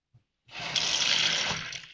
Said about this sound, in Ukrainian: Ми набрали воду.